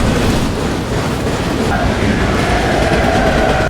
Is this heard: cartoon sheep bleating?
no